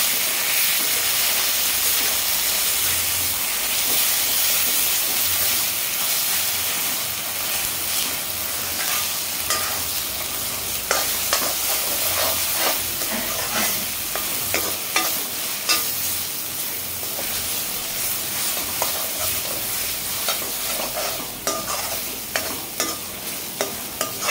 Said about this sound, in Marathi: आता ह्या वाटपाला आपण चांगलं परतून घेऊया